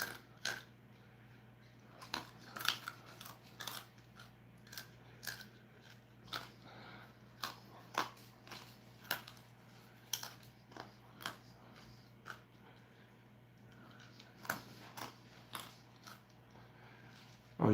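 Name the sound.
chewing food during Tube of Terror eating challenge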